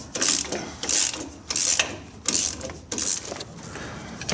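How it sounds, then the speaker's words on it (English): A 15mm socket wrench removing strut bolts from a 2014+ Chevy or GMC 1500 lower control arm, heard as repeated bursts of close, sharp ratcheting clicks with brief pauses between strokes and no talk. "2 bolts there, 15mm socket or wrench, whatever you want to use, and we'll pull those out."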